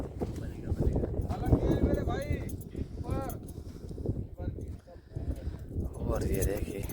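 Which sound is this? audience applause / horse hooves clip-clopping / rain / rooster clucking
horse hooves clip-clopping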